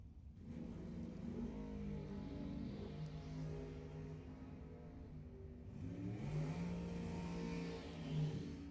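At a drag race, a 1966 Mercury Comet and an Ed Quay dragster rev their engines, rising and falling tones in two bursts with a brief dip between, fairly distant and faint.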